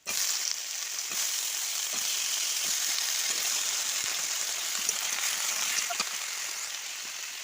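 Vegetables drop into hot oil left from frying hilsa fish and set off a loud, steady hiss of sizzling, with faint stirring clicks scattered through it and no voices.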